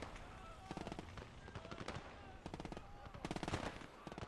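Machine gun fire in the WWII tank game Gates of Hell: Ostfront, loud rapid bursts of automatic shots in several clusters with short pauses between them, over steady battle ambience.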